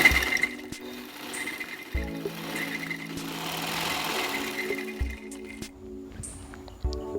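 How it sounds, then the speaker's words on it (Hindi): A sewing machine stitches the belt of a salwar in steady, close mechanical runs. The runs are broken by short pauses and the thuds of the machine stopping and starting. "इसकी हम ऐसे सिलाई लगाएंगे।"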